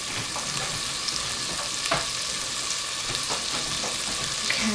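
Food frying and sizzling steadily in a pan on a home stove, with occasional stirring clicks and soft scrapes, close and continuous with no talking.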